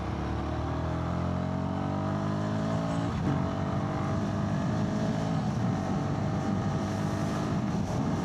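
A Royal Enfield Guerrilla 450 single-cylinder engine pulls steadily uphill in third gear, its loud droning note rising gradually in pitch as revs climb, with constant wind and road roar and no talking.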